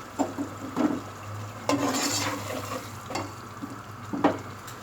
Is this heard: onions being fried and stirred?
yes